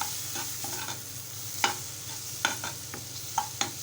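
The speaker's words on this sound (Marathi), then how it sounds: "आता आपण मालवणी मसाला घालूया मिश्रण छान एकजीव करून घेऊया" Potato curry mixture with tomato and Malvani masala stirred in a pan, soft sizzling under repeated spoon scrapes and clinks against the pot, several sharp knocks at irregular intervals.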